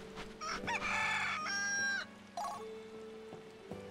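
A chicken in the Valkyrie Profile 2 video game gives a loud, drawn-out crowing call followed by shorter clucks, clear and close over a low steady game tone.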